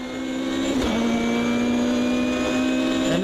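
GT race car engine in Automobilista 2 holds a steady loud drone with clear harmonic bands, rising slightly in pitch as it revs, with a brief gear-change dip near the start.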